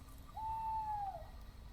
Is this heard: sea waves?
no